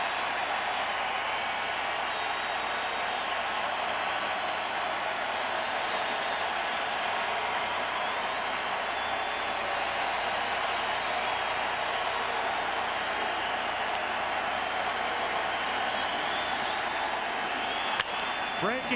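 A baseball stadium crowd at a Texas Rangers–Detroit Tigers playoff game cheers and roars in a steady, loud, sustained wash of noise, with a broadcast voice talking over it.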